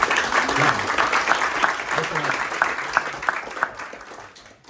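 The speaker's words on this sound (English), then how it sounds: "Can we give him like a round of applause?" An audience at a talks event breaks into a round of applause, a dense patter of many hands that slowly fades out, with voices speaking over it.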